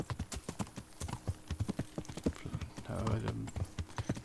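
A horse in Kingdom Come: Deliverance clip-clops along in a steady, fairly quick rhythm of hoof strikes, moderately close, with a brief stretch of muffled voice or noise partway through.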